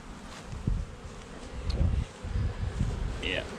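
Honey bees buzz steadily around a hive where they are dragging out dead larvae, a close, continuous hum under some rustling and a faint voice.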